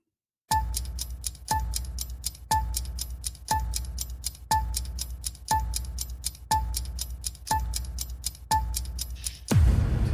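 Quiz countdown timer ticking in a steady rhythm, nine or so evenly spaced crisp ticks about one per second, fairly clear and alone, ending with a short burst of noise.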